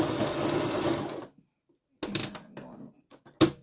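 A sewing machine stitches a handmade gratitude journal in close, rapid whirring runs, one long burst, a pause, then shorter stop-start bursts with small mechanical clicks between them.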